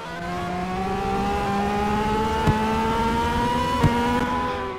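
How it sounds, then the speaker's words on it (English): A loud, steady engine drone rises slowly in pitch as a car revs continuously in the Roblox game Vehicle Simulator, with a couple of faint clicks. "this car is loud"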